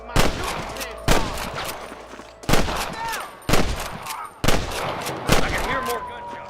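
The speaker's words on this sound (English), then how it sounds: "I can hear more gunshots." Gunfire in the video game Red Dead Redemption (2010, remastered on PC): six loud, sharp shots ring out about a second apart, each trailing a short echo, with faint background commotion between them.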